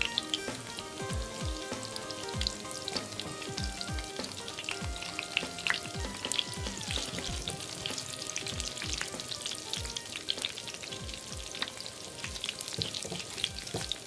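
Homemade hamburger patties frying in a pan over high heat, with a constant sizzle and scattered spitting crackles, plus occasional scraping and clinks of a utensil, close by.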